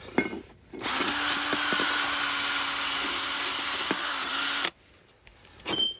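A power drill whirs loudly and steadily for about four seconds, close by, with brief clicks before and after, while working on the rear disc brakes of a 2017 Ford Kuga.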